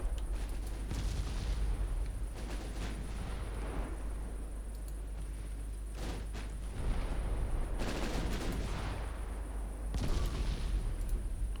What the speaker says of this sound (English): Five-inch guns have opened up